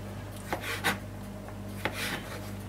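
A knife cuts olives into rings on a board for pizza topping, giving a few soft, separate chopping taps, close and quiet, with no talk.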